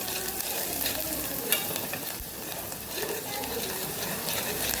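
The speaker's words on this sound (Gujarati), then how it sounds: "આપણે ડુંગળીને સાતડી લેવાની છે" Onions sizzle steadily in a hot pan with turmeric, close up, with occasional scraping and stirring sounds over the continuous crackle.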